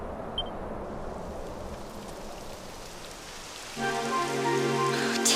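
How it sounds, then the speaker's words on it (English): Rain beginning to fall in the video game Dragon Quest XI, a steady soft hiss of drops on surfaces that swells slightly, with a game music chord entering toward the end. "It would have to go and start raining, wouldn't it?"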